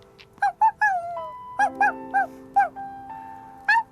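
A person imitates a dog barking, giving a string of short, sharp woofs in an uneven rhythm, close and fairly loud, with a sustained tone underneath.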